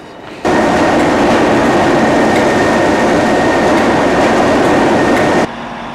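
A test train with a DBSO coach and a Class 37 locomotive at Crewe station platform, heard as a loud, steady rumble of rolling stock that starts abruptly, runs for about five seconds and then drops away.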